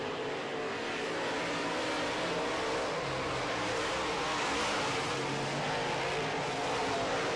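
Modified race cars roaring around a track during a heat race, a dense continuous engine drone blending several cars at steady loud volume without clear pass-by peaks.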